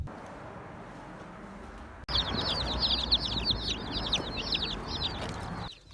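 Rapid, high-pitched chirping from a group of small chicks, steady and busy, with no talking.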